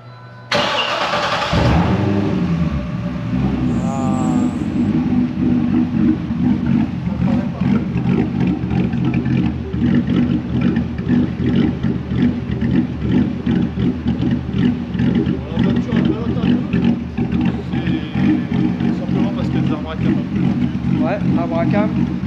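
A 1969 Camaro restomod fitted with a stainless steel exhaust cranks and fires up, then settles into a loud, rumbling idle with occasional blips of revving, close to the car, while someone talks briefly at the start.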